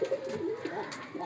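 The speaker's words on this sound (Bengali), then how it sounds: "একদম পিওর জালালি কবুতর ডিম দিয়েছে" Jalali pigeons coo softly at close range, a short low warbling call repeated over a faint background hum.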